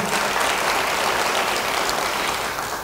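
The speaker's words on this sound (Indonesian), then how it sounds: "Beri tepuk tangan yang baik bagi dia." Dense, steady applause from a church congregation fills the space at full volume, holding evenly for a few seconds without any voices over it.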